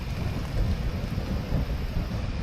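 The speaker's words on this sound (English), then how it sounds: "It's got thunder and lightning going off all around." Steady downpour of rain with continuous low thunder rumbling all around during a nighttime thunderstorm at a camp, loud and dense with no pauses.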